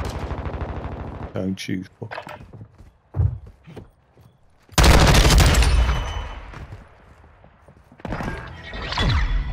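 Rapid bursts of gunfire from a gunfight on a canal, with a loud sustained volley in the middle and scattered shots before and after, while someone talks over the action.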